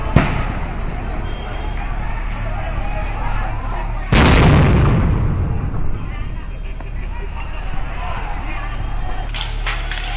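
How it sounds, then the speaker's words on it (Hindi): Police firing shots and tear gas at students during a clash: loud sharp bursts over a steady roar of crowd noise, with one heavy blast midway. "लगातार आंसू गैस और गोलियां बरसा रही है यहाँ पे।"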